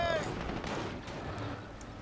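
Gunfire and possible mortar fire in Company of Heroes: Panzer Elite, a steady rumble of distant shots and blasts beneath battlefield noise, fairly faint.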